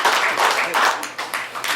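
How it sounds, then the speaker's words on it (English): An audience applauds at a hypnosis show in the Crystal Palace Saloon in Ogallala, Nebraska, with a moderate spread of clapping mixed under a voice talking over it. "Give them a round of applause."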